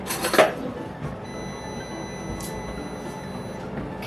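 Kitchen clatter while canned salmon packed in olive oil is drained: a sharp metallic clink of can or fork near the start, then soft scrapes and faint taps over a low hum.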